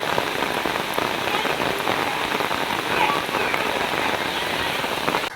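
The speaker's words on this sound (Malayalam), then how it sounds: "ഇതാ നല്ല മഴ തന്നെയാണ് കേട്ടോ" A steady downpour of heavy rain patters densely on surfaces, constant and close throughout.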